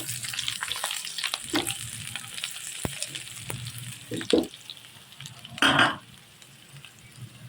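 Onion goes into hot oil where hotdog and potatoes have been frying, raising a sizzle with bursts of crackling, scattered utensil clinks and scrapes, and two louder surges of spitting oil.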